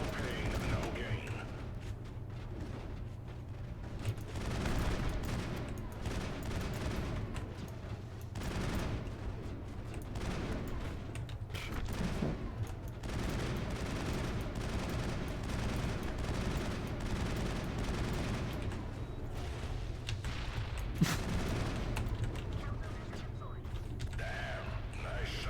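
Rapid bursts of gunfire fill a firefight in the video game Mass Effect, with dense, continuous shots and clatter over a steady low hum, while a voice speaks now and then.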